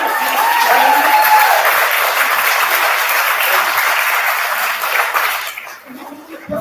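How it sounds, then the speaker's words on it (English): Guests applaud the staff of Chocolate Secrets, with a fairly loud wash of steady hand clapping from a room of people, a voice briefly over it early on, tapering off as it ends and speech resumes. "let's please give a wonderful staff of Chocolate Secrets a wonderful applause for the great service"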